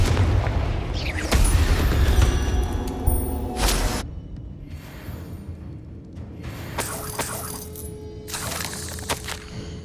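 A Confringo blasting spell goes off in Hogwarts Legacy, a loud booming explosion with a shattering crack, followed by further sharp blasts and rumbling debris, with no talk.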